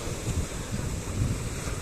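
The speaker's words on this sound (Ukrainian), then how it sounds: "І море, вірніше океан, шум води дуже заспокоює" Ocean surf in a light breeze on a warm holiday shore, heard as a steady, close wash of water and wind noise with low rumbling swells and no voices.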